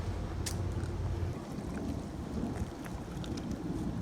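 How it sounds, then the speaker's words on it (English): A freshly repaired pool pump pushes a steady, churning flow of water outdoors, a continuous rushing wash with wind buffeting the microphone and no voices. "We are pumping water."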